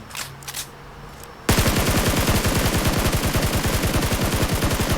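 Rapid automatic gunfire in a PUBG Mobile match bursts in loud and close after a quiet moment, a steady stream of evenly spaced shots that keeps going to the end.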